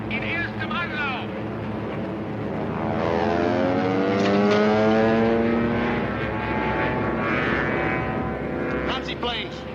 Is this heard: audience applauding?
no